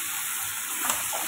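Fried potato and cauliflower pieces sauté in a hot pan, giving a brief, close, steady sizzling hiss with a faint stir toward the end.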